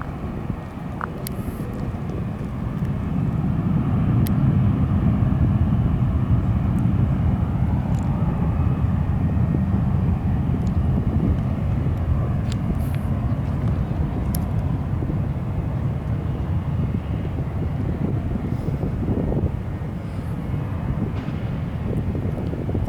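An airliner takes off near El Paso airport, heard from nearby as a loud, sustained jet engine roar that swells and holds steady for over twenty seconds.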